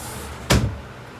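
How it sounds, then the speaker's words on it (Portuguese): A window being shut indoors gives a single short thud or slam midway through, with a quiet room before and after. "Deixa eu fechar aqui a janela"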